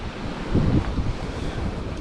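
Wind gusts across an open field during metal detecting, a steady loud rushing roar with a stronger buffeting swell in the middle, close on the microphone and with no talking.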